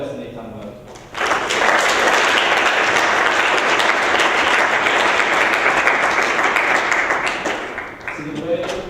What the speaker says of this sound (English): if we can maybe open up with a round of applause